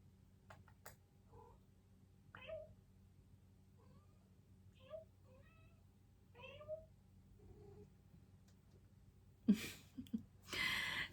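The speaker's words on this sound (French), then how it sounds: "Oh, on a un bébé chat." A kitten gives a string of small, thin meows, about half a dozen spaced calls over a quiet room, followed by a burst of louder rustling and handling noise near the end.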